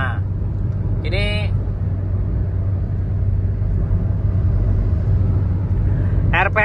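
Suzuki XL7 automatic car driving at about 120 km/h near 3000 rpm, heard from inside as a steady deep road and engine rumble, with brief voice fragments near the start and end.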